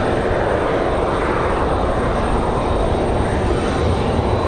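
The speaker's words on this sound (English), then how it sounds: "So Southwest from Chicago. Our next arrival here, 737." A Southwest Boeing 737 arrives at Raleigh Durham airport on a windy day, a loud, continuous broadband engine roar mixed with wind, steady and close with no talk.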